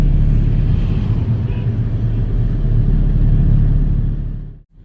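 Traffic jam on a road in Ghana: a continuous low rumble of nearby car and truck engines, steady and fairly loud, fading out sharply at the very end.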